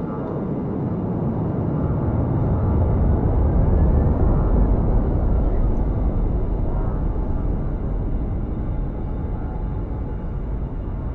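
Loud, steady broadband roar of a military training aircraft landing with 161 Squadron air experience flight, the rumble swelling toward the middle and easing slightly afterward, with no talk over it.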